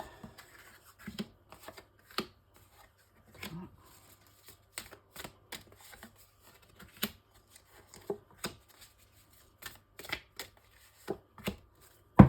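Tarot cards shuffled and handled close by for a six-card spread: irregular bursts of crisp riffling and snapping card edges separated by short pauses, fairly quiet and with no speech.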